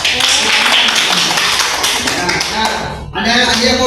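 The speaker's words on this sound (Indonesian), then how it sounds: "Sebelum itu tepuk tangan dulu." Classroom clapping in a religious studies lesson, a loud, close, dense patter of hands that runs for about three seconds, stops abruptly, then gives way to a voice speaking.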